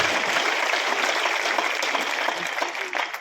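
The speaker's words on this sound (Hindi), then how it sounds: "एक बार दोनों हाथ ऊपर करके तालियां बजा दीजिए।" A crowd at a political rally in Sonkatch, Madhya Pradesh applauds with hands raised, giving a dense, steady roar of clapping that fills the space throughout with no break.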